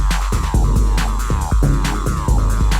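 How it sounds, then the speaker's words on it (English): Squelchy acid synth line in Ableton Live with a modulated filter frequency, pulsing over a heavy thumping electro bassline and drums, loud and busy with no voices. "It's starting to sound like tweaky acid like that."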